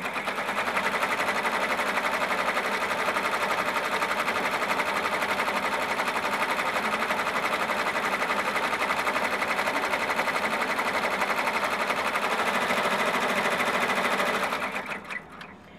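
A sewing machine runs steadily and loudly for about fourteen seconds, stitching a bean stitch around a patchwork appliqué pumpkin, then slows and stops near the end, with no talking.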